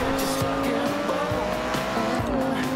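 Tires squeal and skid on a racing car in Forza Horizon 2, a steady high whine held over a loud revving engine for a few seconds.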